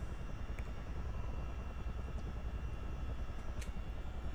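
A Chinook helicopter in Microsoft Flight Simulator 2024 flies low and fast, producing a dense, steady rotor and engine roar that fills the whole clip with constant broadband rumble and no voices.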